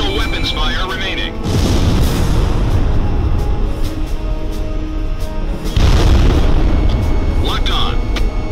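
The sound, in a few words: fuel-air explosive bomb exploding in Ace Combat video game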